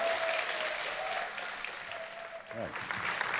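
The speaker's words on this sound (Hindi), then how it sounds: "तालियों के साथ उनका स्वागत किया जाए" A television studio audience on the quiz show Kaun Banega Crorepati applauds to welcome badminton star PV Sindhu, steady clapping with show music tones running beneath and rising again at the end.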